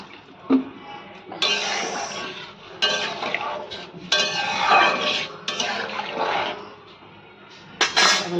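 A little water poured into a cooking pot of vegetable stems, a series of splashing, gushing pours in several bursts, close and fairly loud, with a clink of metal at the start.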